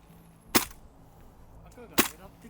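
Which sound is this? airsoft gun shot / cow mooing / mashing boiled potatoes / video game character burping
airsoft gun shot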